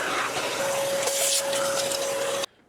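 A Festool vacuum hose with a small 3D-printed accessory cleans out a disassembled miter saw, giving a loud, close, steady suction roar with a thin whistling tone that cuts off abruptly.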